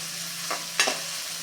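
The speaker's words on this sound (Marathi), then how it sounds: "बटरमध्ये आपल्याला छान परतून घ्यायचा आहे गुलाबीसर रंग होईपर्यंत छान परतून घ्यायचा" Finely chopped onion sautés in butter in a pan for street-style pav bhaji, with a steady soft sizzle and a couple of brief stirring scrapes.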